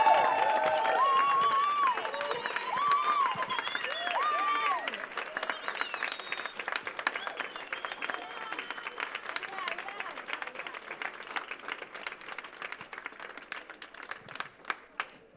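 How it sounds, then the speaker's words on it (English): An audience at a poetry night during an African book festival breaks into cheering and whooping, then settles into sustained, crisp applause that gradually thins to scattered claps. "I want you to cheer for the 70 people that actually worked their asses off"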